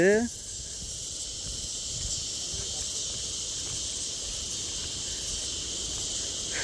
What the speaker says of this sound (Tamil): இது என்ன இவ்வளோ பூச்சி இப்படி கத்துது